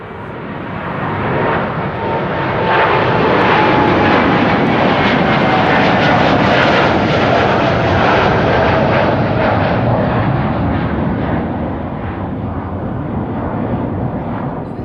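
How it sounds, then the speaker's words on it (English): A KLM Boeing 787-10 Dreamliner takes off from runway 24 at Amsterdam Schiphol, its loud, broad engine roar swelling over the first seconds, holding steady near its peak, then easing slightly as it climbs away, with no voices. "leaving now via runway 24 is KLM Flight 605 to San Francisco"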